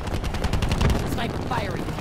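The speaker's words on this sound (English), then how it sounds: "Sniper firing." Sniper rifle fire in Black Ops 4 gameplay: a dense, continuous burst of loud gunfire sounds across about two seconds, with game effects layered over it.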